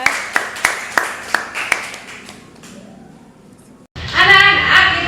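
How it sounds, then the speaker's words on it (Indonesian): In a primary school classroom, children clap for a classmate in a quick run of about six sharp claps that trails off into quiet, followed by children's voices at the end. "Tepuk tangan buat Tasya."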